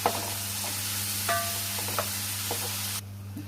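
Onions sautéing with rock salt in a pan for fish curry: a soft, steady frying hiss with a few spoon scrapes and clinks over a low electrical hum, close, cutting out abruptly near the end.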